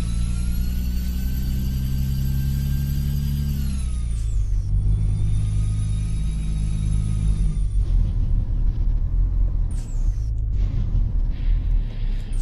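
A heavy truck engine in Euro Truck Simulator 2 holds a steady low drone and then revs and drops as gears change, with a faint exhaust-brake rumble near the end; the sound is continuous and loud and there is no talk.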